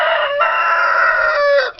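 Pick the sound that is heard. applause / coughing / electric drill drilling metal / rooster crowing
rooster crowing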